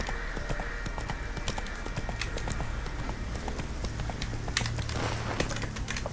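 Hooves of the horse Roach in The Witcher 3, a brisk continuous clip-clop of steady footfalls, close and clear over a low ambient bed.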